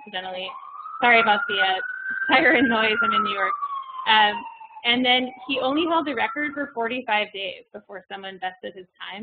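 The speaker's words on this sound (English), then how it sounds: "Sorry about the siren noise, I'm in New York." A distant emergency siren on a New York street rises and wavers faintly beneath someone talking continuously in the foreground.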